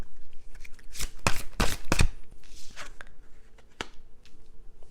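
Tarot cards are shuffled and drawn close by, giving a cluster of quick riffling flutters followed by lighter scattered slaps and taps.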